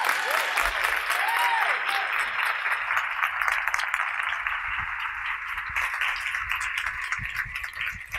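An audience claps and cheers at an ACM gathering, a dense, sustained burst of applause that slowly thins toward the end, with a brief voice early on.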